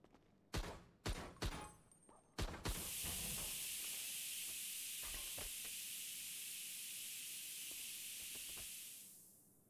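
Steam in a video game first spits out several sharp bursts, then settles into a long, loud, continuous hiss that fades out near the end.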